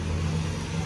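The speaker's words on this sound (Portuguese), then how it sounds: "Vamos ver se você sabe ligar a moto ainda" A motorcycle engine fitted with a 190 kit runs and revs in one short, loud, continuous burst, with no voices.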